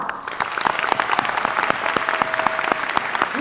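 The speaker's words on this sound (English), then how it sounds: "Please help me give our honorees a big round of applause." Applause for honorees at a high school ceremony fills the room, a steady wash of many hands clapping from start to finish.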